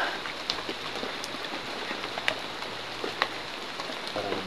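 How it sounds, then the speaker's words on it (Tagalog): Steady rain falling and pattering on surfaces outdoors, a continuous close hiss with occasional louder drops, no voices. "kasi umuulan po"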